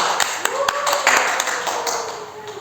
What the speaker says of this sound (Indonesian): Jadi dapat kasih tepuk tangan untuk Silvi